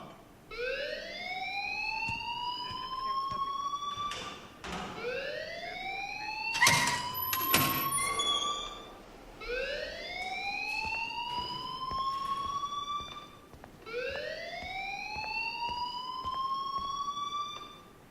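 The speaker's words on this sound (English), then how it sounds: "please turn off that alarm since that's your job" A fire alarm rings in the video game Life is Strange, a loud electronic whooping tone that sweeps upward in repeated cycles of about two and a half seconds, with a brief clatter partway through and no talking.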